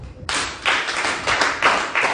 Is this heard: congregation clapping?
yes